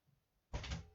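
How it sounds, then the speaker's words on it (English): A dog barges through a door with a sudden loud thump and rattling bump after a quiet moment, close and brief, with no talking. "that's my dog coming barging through the door."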